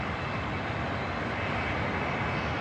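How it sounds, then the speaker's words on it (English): Engines of US military planes starting up at an airfield, a steady broadband roar with a low rumble that holds at constant loudness throughout, with no voices over it. "maybe you can hear, too, the engines are just getting started up on these planes"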